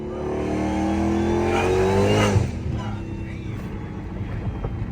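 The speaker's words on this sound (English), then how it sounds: "Like all you hear is the high ass pitch of whine." Supercharged Dodge Hellcat, second generation, revving hard with a rising high-pitched blower whine over a loud engine roar, then the pitch drops off and the engine settles into a rumbling idle.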